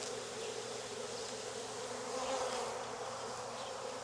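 Dense, continuous buzzing from a mass of honey bees as swarm festoons are gently shaken off a frame, a steady close drone that fills the whole stretch without pause.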